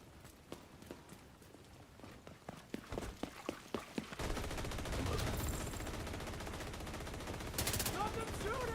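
Gunfire in The Division, a video game. Scattered single shots come first, then a sustained dense burst of automatic fire sounds over a noisy game background.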